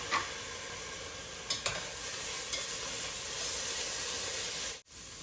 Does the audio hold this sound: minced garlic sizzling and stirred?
yes